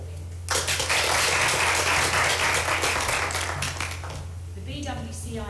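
A hall audience at a 2020 JCG prize giving ceremony breaks into applause that swells quickly, holds full for a few seconds, then thins out as a voice begins speaking over the last scattered claps.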